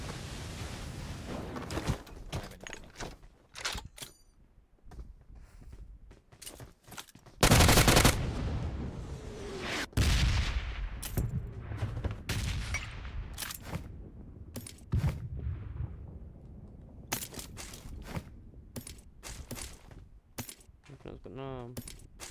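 MG3 machine gun fire in a shooting video game, bursts of rapid gunshots and loud blasts with a dense stretch of sustained fire, while players talk over it.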